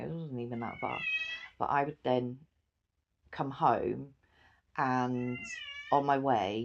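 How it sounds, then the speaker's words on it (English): A cat meows repeatedly in long, tonal calls close to the microphone, interleaved with a person talking at the same time. "That's the cat."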